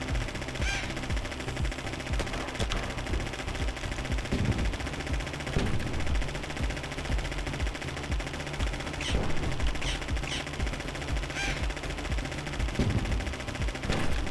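Rapid gunfire from bat-shooting action in the video game The Adventures of Sullivan, a steady dense crackle of shots running the whole stretch over game music and effects, with no talking.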